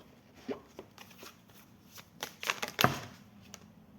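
Tarot cards are handled and drawn, making a few soft taps and slides, then a sharper, louder flick of a card near the end, close and quiet with no talking.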